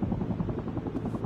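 A helicopter in the video game Sniper Ghost Warrior Contracts thumps with a fast, steady rotor chop, a brief faint loop heard alone at moderate distance.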